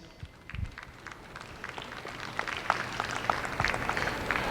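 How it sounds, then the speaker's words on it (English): An audience at a dairy show ring applauds youth exhibitors with Ayrshire cows, the clapping starting faint and sparse, then swelling into a steadier, fuller patter of many hands heard from a distance. "let's give these youth a tremendous round of applause"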